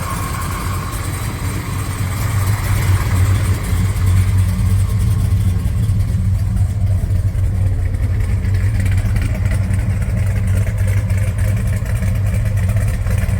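A 1970 Plymouth GTX with a roller motor rumbles at steady idle, exhaust flowing through TTI headers and Dynamax turbo mufflers, heard from behind the car as a loud, continuous low burble with no talking.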